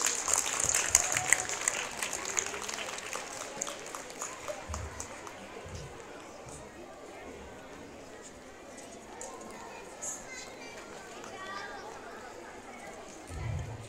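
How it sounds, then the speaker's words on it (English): An audience at a school Christmas celebration applauds the houses, a full round of clapping at the start that gradually thins into a softer, sustained patter, with a murmur of voices underneath. "a huge round of applause for all the houses"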